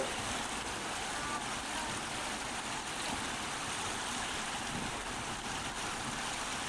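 Jog Falls on the Sharavathi river, swollen by monsoon rain, gives a constant, dense rushing roar of falling water that sounds distant and unbroken, with no voices.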